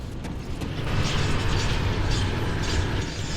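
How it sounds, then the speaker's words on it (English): Rift gate teleport in Grim Dawn Definitive Edition on Xbox Series X, a swelling whooshing, grinding magical rush that builds quickly and holds loud before fading. "Right, open the rift gate."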